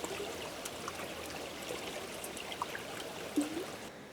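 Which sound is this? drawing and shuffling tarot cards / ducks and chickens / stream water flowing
stream water flowing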